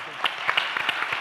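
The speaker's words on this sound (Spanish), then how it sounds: "Muchas gracias, un aplauso." A podcast audience breaking into applause, a scattered patter of hand claps at moderate distance, thin and uneven over a short span.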